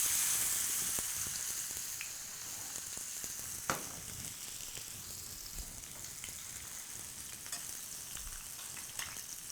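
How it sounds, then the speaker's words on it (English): Pork tenderloin searing in extra virgin olive oil, an even, crackling sizzle that stays close and steady throughout, dotted with small pops and one louder spit of fat, with no talking. "at this point, we're going to sear this meat"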